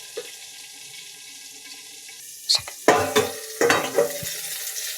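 Eggplant fries in a little oil while being pressed down in the pan: a faint, steady sizzle at first, then several louder scraping, pressing bursts close by in the second half. No voices.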